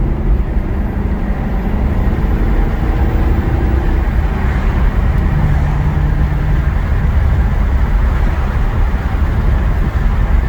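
A Maserati cruising along a road, heard from inside as a steady low engine and road rumble with tire noise, continuous and fairly loud throughout, with no talking.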